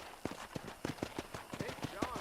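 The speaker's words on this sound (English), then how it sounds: "let's see if you can still ride a horse" Horse hooves clip-clop at a steady trotting rhythm in the Western video game Red Dead Redemption, close and distinct over background game ambience, with voices talking faintly underneath.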